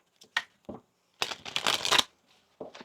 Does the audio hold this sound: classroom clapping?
no